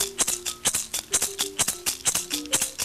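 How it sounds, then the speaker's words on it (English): Pumpkin shaker filled with maize seeds, shaken in a steady repeating rhythm of sharp rattling swishes alongside mbira, clear and close with no talking. "It is very easy to make these shakers."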